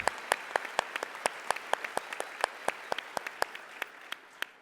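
A conference audience applauds with sparse, distinct claps standing out over a soft wash of clapping, fading slightly toward the end.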